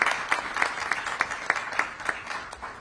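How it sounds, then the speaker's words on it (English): A room of people at a civic event gives a round of applause for the mayor, a short burst of clapping with individual claps standing out in a loose, fairly close rhythm. "can we give the mayor and Councilman McDuffie in his absence a round of applause"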